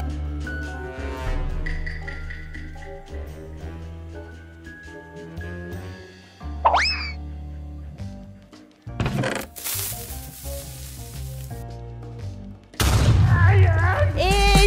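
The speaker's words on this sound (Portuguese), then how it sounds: "Eu escutei as explosões." Booby-trapped chests explode in a Minecraft-style game over ongoing game music and chimes. Several loud booming blasts come in bursts in the middle and end of the stretch.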